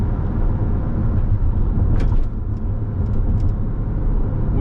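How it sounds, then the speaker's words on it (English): A 2021 Chevy C8 Corvette engine rumbles steadily from inside the cabin through a couple of downshifts, with a brief dip in level midway. "I'm gonna get a couple downshifts right here."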